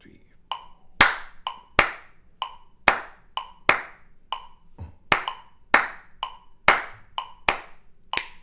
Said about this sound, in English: just clap them with the metronome, and it feels good